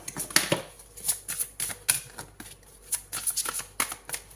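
Tarot cards are shuffled and handled, giving a steady run of close, crisp riffling flicks and snapping card slaps with short pauses between them, with no talking.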